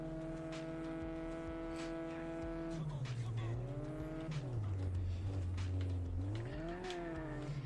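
A car drifts in a racing video game, its engine droning steadily, then rising and falling in pitch as the tires squeal through the slide, loud and close with no talk over it.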